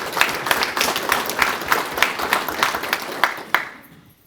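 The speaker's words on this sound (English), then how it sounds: "so a round of applause for Drew." Audience applause at a workforce awards breakfast, a steady wash of clapping from a room of people with sharper individual claps, fading out at the end.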